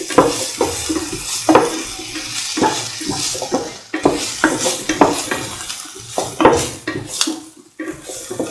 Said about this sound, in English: Sort the shallots, garlic, onion pieces thoroughly and mix.